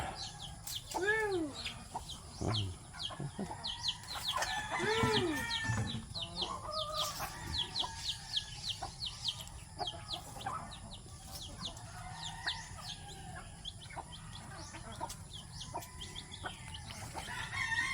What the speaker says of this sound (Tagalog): Manok Bisaya.